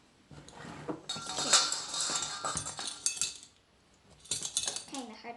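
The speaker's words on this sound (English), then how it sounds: "Good job scraping it off the top so it's nice and even." In a home kitchen, a measuring spoon scoops cinnamon for oatmeal raisin cookies and scrapes across the top to level it. Light metallic clinks and scraping come in two bursts close by, with a short pause between them.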